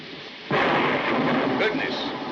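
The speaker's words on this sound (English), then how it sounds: "I love thunderstorms, don't you?" Thunder in a thunderstorm bursts in suddenly after a quiet start and rolls on as a loud, broad rumble to the end, with no talking over it.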